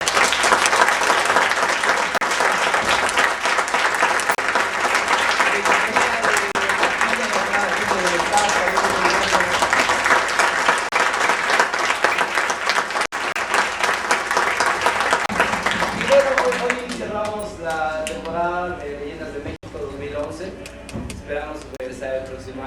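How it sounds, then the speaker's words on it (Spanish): A theatre audience at the Teatro Rodolfo Usigli applauds after a performance of Leyendas de México, with loud, sustained clapping that fills the room. The clapping thins into a few scattered claps at the end while someone speaks over it. "Quisiera pedirles un fuerte aplauso a mis compañeros de cabina"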